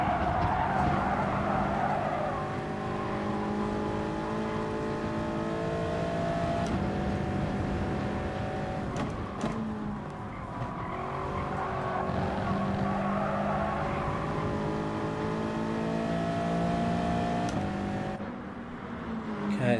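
Gr.4 race car in the game Gran Turismo Sport at Sainte-Croix, its engine droning loudly and shifting pitch through the corners with repeated tire skids and squeals, other cars close by.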